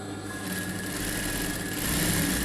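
Sewing machine stitching a blouse lining, a continuous close mechanical whir with a steady hum, no pauses, no talking.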